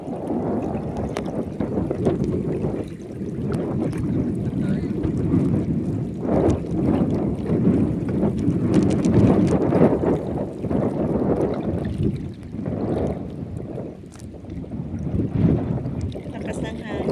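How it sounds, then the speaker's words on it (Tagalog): Strong sea wind buffets a small boat that is drifting off course, a loud continuous roar of gusts battering the microphone with water sounds mixed in, swelling and easing throughout. "Lakas ng hangin."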